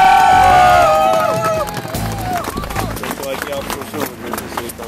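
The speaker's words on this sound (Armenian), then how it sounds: "Ծափահարություններ։" A crowd breaks into dense, steady applause after a brief musical tone fades. The clapping carries on at an even level with some murmuring voices mixed in.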